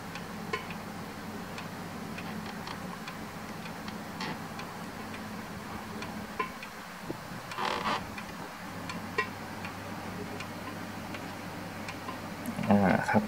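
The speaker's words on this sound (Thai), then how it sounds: "ติ๊กต๊อกติ๊กต๊อกติ๊กต๊อกนะครับ" An antique pendulum wall clock ticks in a steady, even rhythm, faint and close in a quiet room, while someone speaks softly over it.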